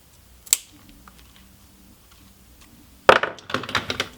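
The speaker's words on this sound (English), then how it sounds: "Gonna use my snippers instead of the scissors." Metal snippers cut through braided bullwhip strands: one sharp snip, a quiet pause, then a cluster of crisp clipping snaps close by.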